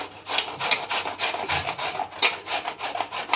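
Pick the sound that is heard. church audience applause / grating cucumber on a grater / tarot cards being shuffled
grating cucumber on a grater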